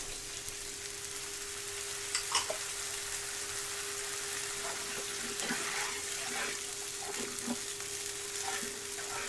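Spinach frying in a pan as a little water is added, with a soft steady sizzle, occasional light clicks and splashy bursts, a thin constant tone running underneath, no talking.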